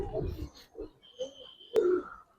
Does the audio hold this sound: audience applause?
no